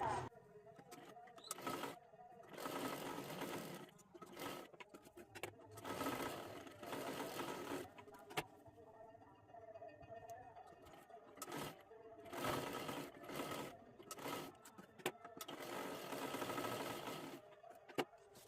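Sewing machine stitching a salwar, with bursts of rapid mechanical whirring in several runs separated by short pauses, close and fairly quiet, and some talking between runs.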